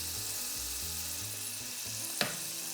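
Spanish tomato sofrito simmers in a pan with a steady, close sizzle and hiss, broken once by a short, sharp scrape or clink of a utensil.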